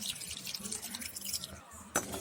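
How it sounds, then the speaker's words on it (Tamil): Water is poured over palm jaggery in a vessel, giving a steady splashing trickle with bright, glassy drips and a sharper splash near the end. "இந்த வெள்ளம் முழுங்குற அளவுக்கு தண்ணி ஊற்றிக்கலாம்"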